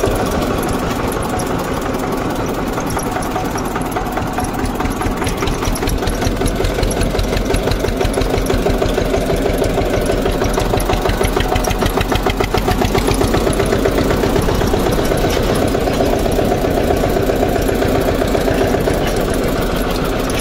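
Eicher 241 Xtrac tractor engine running in fourth gear, a loud, steady diesel chug with rapid regular firing pulses throughout, no talking.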